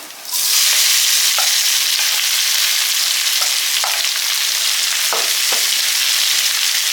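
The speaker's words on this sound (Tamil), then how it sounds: "இது ரெண்டு நிமிஷம் வதக்கி விடுங்க எண்ணெயிலேயே" A chapati side-dish mixture sautéing in oil, a loud bright sizzle that starts abruptly and holds steady, with several sharp spatula scrapes and taps scattered through it, close up and without speech.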